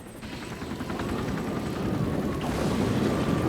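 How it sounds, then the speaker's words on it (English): A helicopter flies close by, its steady rotor chop and engine roar filling the scene with a loud, continuous thrum that builds slightly toward the end. "Fly the damn chopper, Jack."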